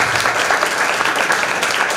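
A crowd claps throughout, dense and sustained applause filling the room at full volume during a Hindi-language Christian sermon.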